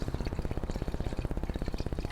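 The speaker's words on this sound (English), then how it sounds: "Got the inspector running water in the house." Water from a house flows through a clean 6-inch clay sewer pipe, a quiet, rapid, rhythmic gurgling pulse that repeats steadily throughout.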